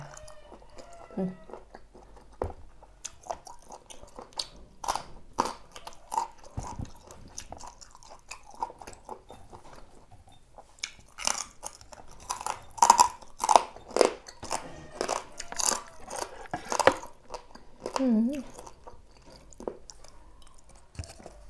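Close, crisp crunching as someone chews crunchy vegetable stems in a Thai spicy shellfish salad, with irregular bursts of bites that grow louder and denser, and wet mouth sounds between them.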